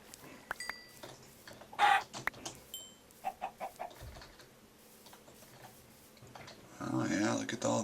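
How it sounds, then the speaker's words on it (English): Chickens cluck in the video game Minecraft, short faint clucks scattered among keyboard typing and mouse clicks, with a brief louder in-game noise near the end. "Ooh, I see some chicken."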